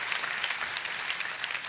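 Church congregation applauding, a dense continuous wash of many hands clapping at once, fairly distant and even throughout, with no talk on top.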